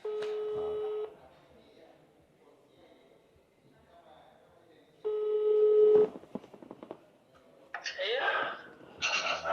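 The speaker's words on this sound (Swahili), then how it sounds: "Tuwapigie tusikie." A phone call rings back on the line: two loud steady ringback tones a few seconds apart, followed by a person speaking on the call.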